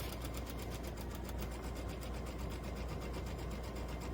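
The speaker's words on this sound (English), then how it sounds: "We're going to sew along the long edge that we pinned." A sewing machine runs steadily, stitching quilt fabric along the pinned long edge of half-square triangles, a fast even needle rhythm close by and alone for several seconds.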